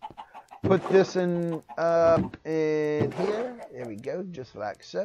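Chickens in Minecraft cluck and squawk in short bursts with loud, close, pitched calls, mixed with someone talking briefly.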